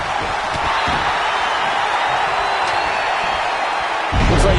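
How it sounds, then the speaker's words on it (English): A dense, roaring wrestling arena crowd at WCW Starrcade, passionate and sustained cheering filling the space, loud and continuous with a surge near the end. "I don't remember the last time I heard a more passionate crowd than the one we have here tonight"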